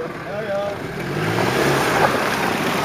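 Off-road vehicle engine building revs on acceleration, a steady broad roar growing louder with wind and rumble, a voice speaking briefly over it.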